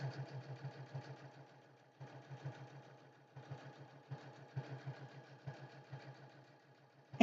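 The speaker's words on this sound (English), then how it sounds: "I'm going to back stitch at the 2 pins." A sewing machine back stitches through fabric at a pair of pins, running in short bursts with brief pauses between them. The stitching is fairly quiet and close, with no talking.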